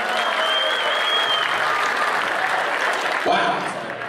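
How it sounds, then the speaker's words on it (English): An audience at a live interview event with boxer Roy Jones Jr. gives dense, continuous applause, a loud wash of many hands clapping that swells slightly near the end before easing. "Give him a big round of applause,"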